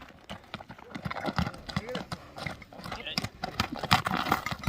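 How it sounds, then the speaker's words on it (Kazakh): Hooves of large horses from the Alay region clip-clopping on gravel in an irregular rhythm of close, distinct hits, with someone talking over them. "Алайдан чыккан чоң аттар."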